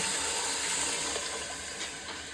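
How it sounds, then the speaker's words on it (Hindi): Water is poured into a hot pan of frying dal, chicken and boiled fenugreek and spinach, giving a steady hissing sizzle throughout with no talk. "अभी अच्छा भून गया, इसमें पानी डालेगा,"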